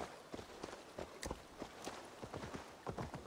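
Horse hooves clip-clop at a steady trot in Assassin's Creed Valhalla, with crisp, evenly spaced strikes close up over a low ambient bed of game sound.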